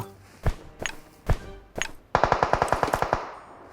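PUBG Mobile gunfire: a few separate heavy shots, then a rapid automatic burst of about ten rounds, loud and close with no talking.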